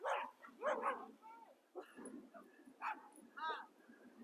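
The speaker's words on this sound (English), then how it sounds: "we have a bunch of dogs and noise coming" A bunch of dogs bark in short, irregular bursts at moderate distance at an outdoor horse groundwork session, with yips mixed in.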